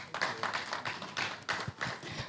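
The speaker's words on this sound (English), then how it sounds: "So another round of applause for him," An audience at a business panel session gives a short round of applause, a patchy scattering of claps rising and falling over a couple of seconds.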